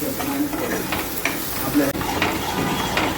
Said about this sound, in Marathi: ते आता वाटण आपण चांगलं तेल सुटेपर्यंत परतून घेणार आहोत